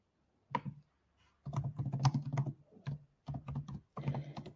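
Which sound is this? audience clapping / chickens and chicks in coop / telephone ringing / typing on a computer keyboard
typing on a computer keyboard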